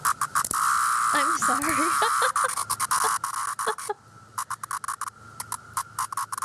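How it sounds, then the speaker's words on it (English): A single cicada, held in someone's hand, gives a loud, harsh, continuous buzzing drone that breaks into rapid pulsing bursts, with a person talking over it. "This is one cicada,"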